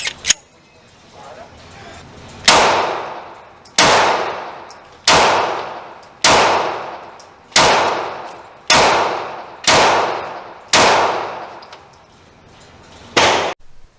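Rifle fitted with a fake Trijicon sight firing test rounds, nine loud close shots at a steady unhurried pace, each ringing out with a long echo tail.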